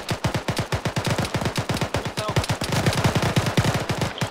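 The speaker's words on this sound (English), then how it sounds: "AK fire to our rear." AK rifle fire crackles in rapid bursts during a military field training exercise, dozens of sharp reports in quick succession, fairly loud and echoing, with no talk over it.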